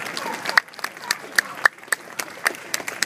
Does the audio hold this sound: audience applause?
yes